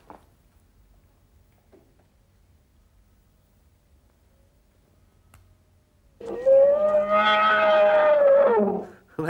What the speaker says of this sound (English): That camel made a funny noise.